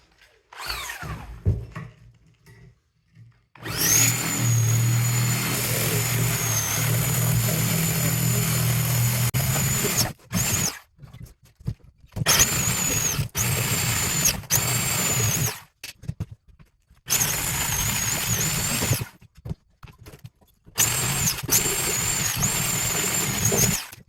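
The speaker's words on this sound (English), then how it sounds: "I'm gonna cut the steel off of these radiators here" Power tool cutting steel plates off scrap window air conditioner radiators, loud grinding bursts with a high whine that start and stop repeatedly, separated by short silent gaps.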